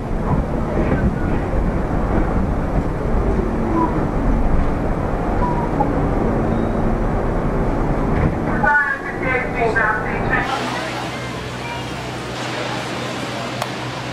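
A train rumbles loudly nearby with steady low roar, then fades and changes to a lower hum as people talk over it.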